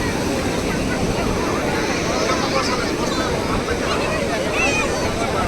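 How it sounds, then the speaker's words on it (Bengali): Sea waves roll in at a crowded Digha beach at high tide under a full moon, a continuous loud wash of surf mixed with distant crowd babble and wind buffeting the microphone. "সমুদ্রের খালি ঢেউটা কীরকম আসছে দেখুন"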